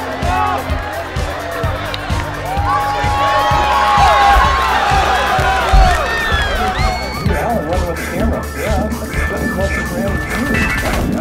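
A crowd cheers and shouts at a jump rope sprint race, loud and steady throughout, with sharp thwacks and thuds mixed into the roar and people talking and yelling close by.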